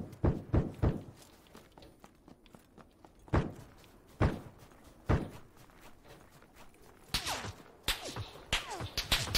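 Quick footsteps of running players in the video game PlayerUnknown's Battlegrounds on Xbox, Vikendi map, thud in clusters, with sharp whipping hits and shuffles, close then fading, scattered across the span without talk.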